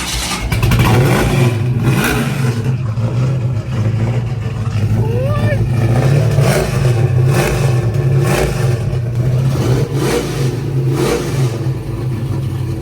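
A Ford Mustang engine rumbles and revs loudly nearby, with a deep, throaty idle and repeated throttle blips, while people talk over it.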